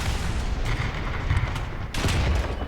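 Tank cannon fire in War Thunder ground battles, heavy booming shots over a constant loud battlefield roar, with a sharp, prominent blast about two seconds in.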